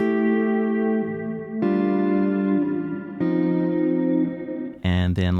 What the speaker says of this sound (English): We're going to turn on our volume block and hear the swell into it.